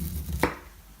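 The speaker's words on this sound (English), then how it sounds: "Run the knife right down the core." A knife slicing sweet grilled corn kernels off the cob, one short crisp cut against a quiet background.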